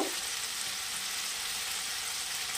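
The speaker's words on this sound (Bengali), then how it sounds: "নাড়াচাড়া করে নেব, নাড়িয়ে নেব।" Pointed gourd with ginger frying and being stirred in a pan for a Bengali malaikari, a steady bright sizzle that stays close and even throughout.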